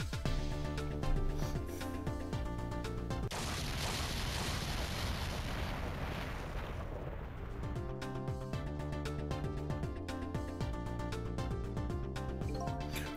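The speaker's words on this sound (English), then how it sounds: "I think I heard an explosion somewhere." Explosion in the Ghost Trick: Phantom Detective video game: a sustained, noisy rumbling burst of several seconds rises over the looping game music, then fades as the music carries on alone.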